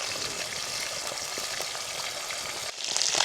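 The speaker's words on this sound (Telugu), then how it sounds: "సరేలే, ఏదో ఫ్రై చేసుకొని తినేద్దాం అలాగా." Food sizzles and fries in a pan at a forest campsite, a loud, steady crackling hiss close by with light stirring, briefly intensifying near the end, with no talking.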